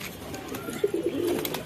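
Sirazi pigeons coo in a short run of soft, low calls midway through, close by, over a faint background hiss.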